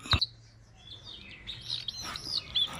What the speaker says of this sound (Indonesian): burung kacer Sumatera atau burung kacer poci